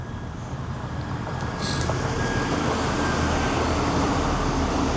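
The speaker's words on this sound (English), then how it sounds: "Train just coming in there," A train arrives near the 13th Lock on the Royal Canal between Leixlip and Maynooth, a steady low rumble that swells slightly as it draws closer, heard outdoors with no talking.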